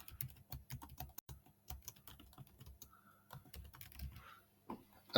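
Typing on a computer keyboard: quiet, irregular bursts of close key clicks with short pauses, and no speech.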